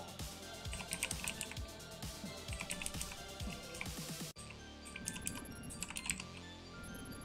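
Fast, steady typing on a computer keyboard while playing The Textorcist, a game driven by typing. The keys clatter close up as a continuous stream of taps, with one brief pause partway through.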